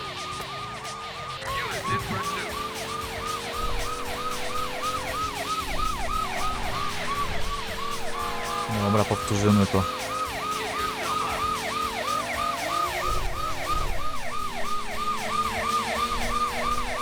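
Police car sirens in the video game Driver 2 on PC, a continuous wailing chase through Chicago streets, loud and layered over engine noise, with someone speaking briefly near the end.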